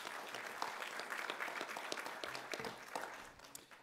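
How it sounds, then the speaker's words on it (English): A round of applause from a conference audience for Dr. Harry Edwards, a dense, steady clatter of many clapping hands that holds at an even level before thinning slightly toward the end. "Please give him a round of applause."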